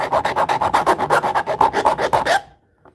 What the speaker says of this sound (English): We're sharpening our chainsaw.